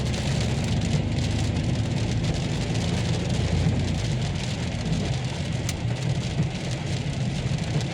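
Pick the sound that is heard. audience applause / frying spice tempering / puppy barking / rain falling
rain falling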